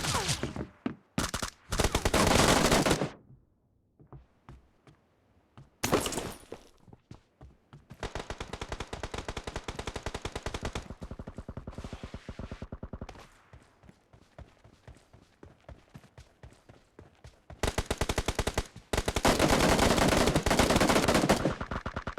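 Gunfire in a PUBG Mobile team deathmatch: bursts of automatic weapon fire alternate with single shots and brief pauses, loud and close, with a short announcer voice.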